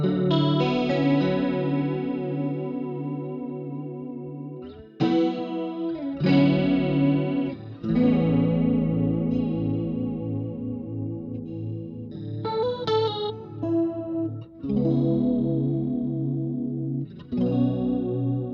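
An electric guitar plays a clean tone through a Boss GX-10 multi-effects modeller with a shimmering chorus on its chords and single notes, in phrases separated by short gaps, alone and without talk.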